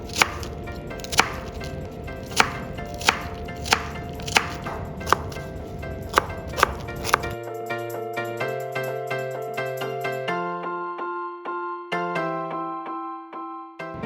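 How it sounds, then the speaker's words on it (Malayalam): Taro stems are split lengthwise and cut into fairly large pieces with about ten sharp, evenly spaced knife chops, close and crisp, over a steady background bed that gives way to music partway through. "ഇതിങ്ങനെ 4ആയിട്ട് കീറി അല്പം വലുപ്പത്തിലാണ് നമ്മൾ കട്ട് ചെയ്യുന്നത്"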